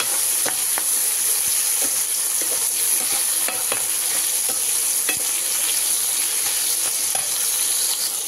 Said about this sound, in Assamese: এইখিনি অকণমান ভাজি ল'ম